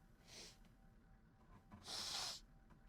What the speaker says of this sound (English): The usual sniffles out of the way.